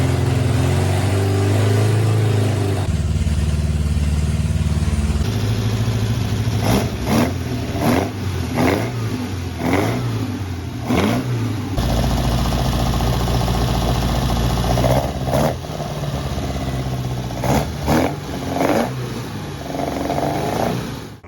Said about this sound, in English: being the first run-in of the engine, tried to keep the revs up so to not cause any damage to that camshaft